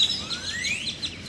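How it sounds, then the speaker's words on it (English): Birds chirp outdoors in a quick series of bright, rising tweets and short calls, fairly close and clear, with no talking. "The birds are loud."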